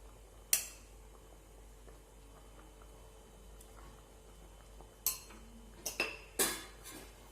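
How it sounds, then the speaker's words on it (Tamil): Metal utensil clinks against a pot of boiling pasta, a few sharp scrapes and knocks, then a plate set down over the top, close and fairly quiet with no talking. "ஆட் பண்ணிட்டு நல்லா இதை கிளறி விட்டுட்டு திருப்பியும் பிளேட் போட்டு நம்ம மூடி வச்சு நல்லா வேக விட்டுறலாம்."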